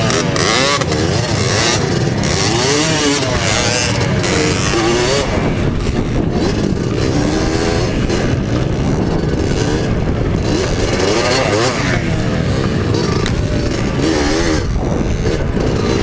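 Loud, close motorcycle engine revving hard and continuously on a trail race course in San Manuel, Pangasinan, climbing over a large tire obstacle, with throttle surges rising and falling throughout and no voices.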